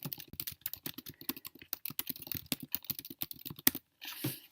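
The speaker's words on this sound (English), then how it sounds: "next I'm going to type my message" Rapid, uneven typing on a computer keyboard as a message is entered, with crisp close key clicks in quick bursts, ending in a short louder clatter and a brief rustle.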